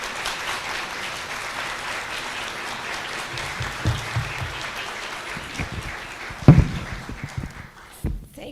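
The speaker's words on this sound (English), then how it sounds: "Let's give her a round of applause, please." An audience at a memorial lecture on constitutional rights applauds the incoming lecturer, sustained even clapping from a large hall that thins toward the end, with a few louder bumps and movement near the microphone.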